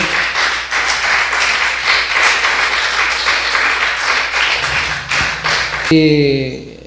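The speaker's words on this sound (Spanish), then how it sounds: "Denle un fuerte aplauso al Rey" Applause at a Pentecostal church service, many hands clapping together in a dense, steady wash that continues for several seconds, with a brief burst of music or voices at the end.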